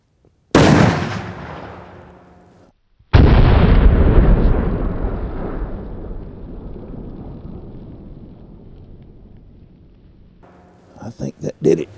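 A .50 BMG rifle fired at a whitetail deer on a hunt, two huge booming shots whose roar rolls away slowly over several seconds, followed by a few faint knocks.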